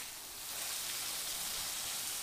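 Vegetables fry in a pan with a soft, steady sizzling hiss that swells slightly and holds throughout, quiet and with no voices.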